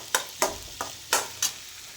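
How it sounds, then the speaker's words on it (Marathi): Red pumpkin curry frying in a pan and being stirred, five sharp scraping strokes at a steady pace against a soft, quiet sizzle. "इथं टाकलेली आहे मी लाल भोपळ्याची भाजी"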